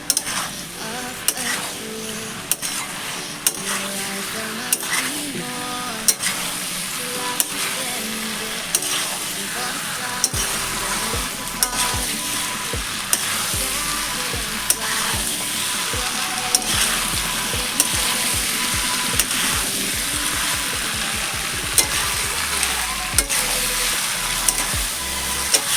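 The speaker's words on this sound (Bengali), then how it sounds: "চিংড়ি মাছটা দিয়ে এবার ভালো করে মিশিয়ে দেব।" Prawns and green jackfruit fry together in a pan, a steady sizzle under repeated rhythmic scraping and stirring with a spoon against the metal, plus a few clinks.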